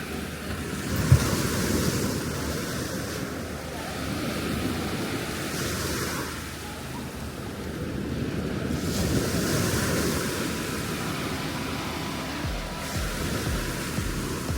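Waves break on a beach in Martinique, a continuous surf roar rising and falling in slow swells, with wind buffeting the microphone and no talking.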